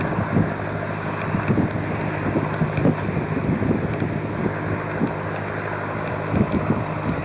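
A desalination plant in the outback of Western Australia gives off a steady low hum that carries on without a break, mixed with wind buffeting the microphone.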